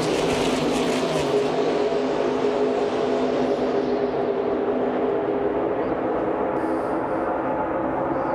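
Stock cars roar off at the start of a NASCAR-style race, a loud dense engine roar that swells then gradually recedes into the distance, with no talk over it.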